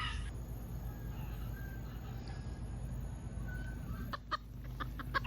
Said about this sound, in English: in the case of these birds, I have this adult male, which is a cock, that's a male over a year, and two young birds, two young females